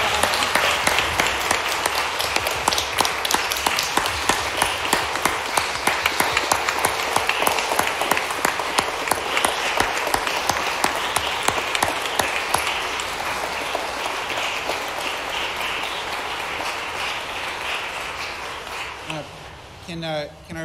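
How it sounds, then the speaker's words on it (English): A long round of applause from a law school audience honoring trial advocates at a moot court final, many hands clapping steadily and briskly for nearly twenty seconds before tapering off, with some voices mixed in. "Can we give them a round of applause?"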